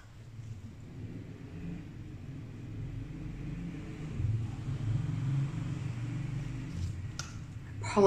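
Street traffic in busy downtown Merida, Mexico, passes outside a front door as a steady low rumble of engines, swelling as vehicles go by, with a brief sharp knock near the end.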